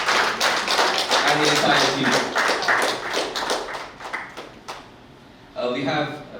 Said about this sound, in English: I really want you all to put a round of applause